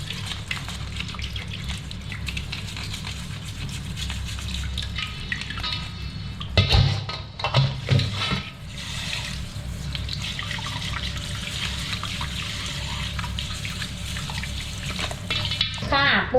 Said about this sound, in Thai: เราต้องล้างเขาให้สะอาดเลยนะคะ นี่นะคะ ล้างแบบว่า ต้องขัดแบบสะอาดเลยนะ